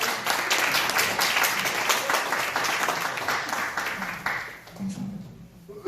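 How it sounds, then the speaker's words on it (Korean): Congregation at a youth worship service in a church breaks into sustained applause, a dense steady clapping that fills the room for several seconds before thinning out and fading near the end. "응원의 박수 한번"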